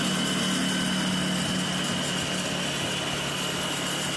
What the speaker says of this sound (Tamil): சரி பரவாயில்ல வாங்க பைக்கில் போகலாம்